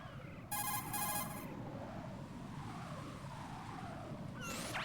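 A cell phone rings in Metal Gear Solid 2, a short burst of electronic ringing over a steady low rumble of game ambience, then a whooshing effect near the end.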